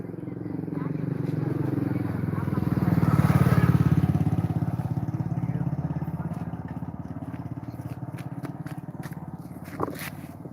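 A two-wheeler moves through a busy vegetable market in Tiruppur. Its steady engine drone swells as it nears, peaks, then slowly recedes, with crowd noise and voices around it.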